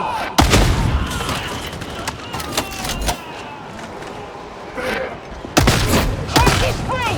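Gunfire crackles through a Darktide match in several sharp bursts and booms amid game noise, loud and close, with shouted voices from players over the shooting.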